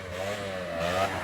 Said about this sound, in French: Là, c'est un bruit de moto, je suis désolé.